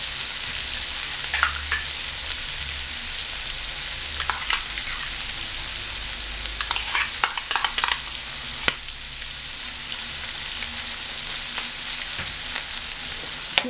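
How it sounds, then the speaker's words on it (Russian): Kidneys with cucumbers and sour cream frying in a pan as they are stirred, a steady loud sizzle with occasional scraping spoon taps scattered throughout, no talking. "Перемешиваем."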